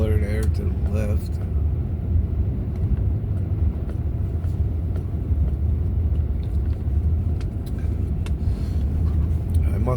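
A four-wheel-drive vehicle in automatic four-wheel drive drives through a blizzard in southern Oklahoma, a constant low rumbling road and engine drone heard from inside, with a person talking over it.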